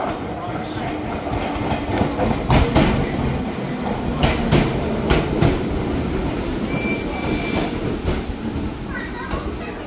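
A train near Fujikawaguchiko, Japan, rumbles along with rhythmic clickety-clack of wheels over rail joints and a faint squeal, steady and fairly close.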